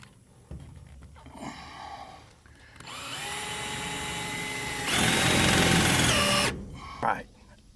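Power drill boring a hole wide enough for a bolt to pass through, steady high whine in two long bursts that rise in pitch, close and loud, with brief voices between.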